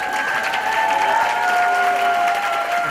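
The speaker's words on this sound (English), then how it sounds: "Let's give a warm, loud round of applause to Ruthie Ben-Simon Shweki" A warm round of audience applause at a Jewish Montreal community philanthropy event, steady dense clapping filling the hall at even loudness with no talk over it.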